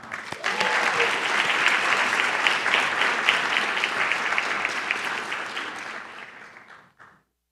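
An audience applauds to welcome a guest speaker at a university honors colloquium, steady dense clapping from a sizable crowd that carries on for several seconds before fading out.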